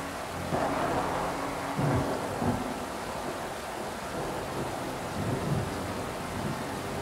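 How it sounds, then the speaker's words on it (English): A thunderstorm rolls through in the video game Inmost, steady hissing rain under several low, muffled thunder rumbles, with no talking. "Storm's coming."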